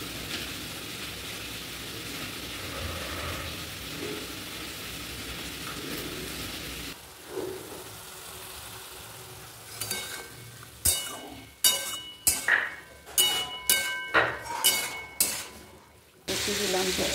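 Elephant foot yam fries with spices in a pan: a steady sizzle at first, then a quieter stretch broken by a run of sharp spatula scrapes and clinks against the pan.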